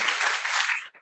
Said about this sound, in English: Let's give Dr. Miller another round of applause.